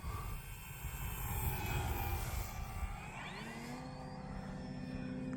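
An FMS Pitts V2 1400mm RC model biplane makes a slow pass, its electric motor a steady droning whine that shifts pitch as it passes, heard outdoors at moderate distance without talk.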